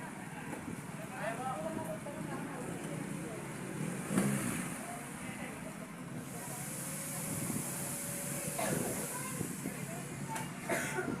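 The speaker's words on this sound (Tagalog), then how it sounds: "Yung mga motor." Motorcycles ridden by a group of riders pass along a road at a distance, their faint engine whooshes rising and fading a few times beneath quiet talk.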